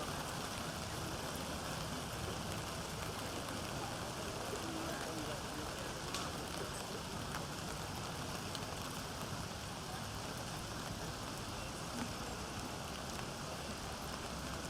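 Rain falls steadily at an outdoor cross country meet, a constant dense hiss lasting the whole stretch with faint voices underneath.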